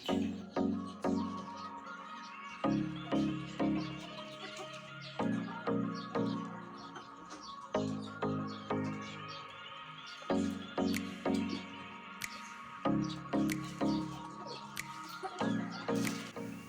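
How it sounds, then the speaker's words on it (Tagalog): Hungry, thirsty chicks and chickens crowding a scratch pen, clucking and cheeping in rapid overlapping bursts that keep repeating, moderately near and fairly quiet. "Pati yung mga sisiw sa scratch pen ay kagulo na at mga gutom at uhaw na rin."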